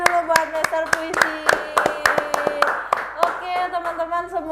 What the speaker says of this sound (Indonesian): Oke, tepuk tangan dulu buat Mister Puisi.